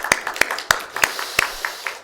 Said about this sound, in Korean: 박수해 주시길 바랍니다.